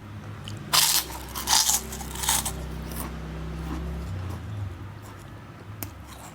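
Fried Indonesian kerupuk crackers being bitten, several sharp crunchy bites in quick succession near the microphone followed by quieter chewing over a low background hum.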